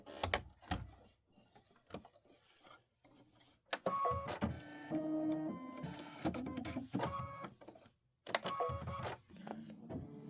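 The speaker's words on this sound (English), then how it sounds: "we're going to stitch out the second set" An embroidery machine stitches a quilt block in peach thread, making a busy mechanical whir with rapid needle chatter and rising and falling motor tones, broken by short pauses and bursts of clicking.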